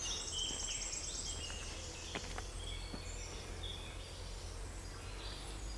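Birds sing outdoors in a quiet setting, with several chirps and whistled phrases over a faint steady insect-like drone and low background hum.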